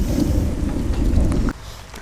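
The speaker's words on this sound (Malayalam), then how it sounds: "കേട്ടാ ഇടി പൊട്ടുന്നത് കേട്ടാ? ഇടി പൊട്ടുണ്ട്," Thunder rumbles during a heavy downpour in a low, rolling roar with rain noise. It fills the first second and a half, then abruptly falls to a much quieter hush.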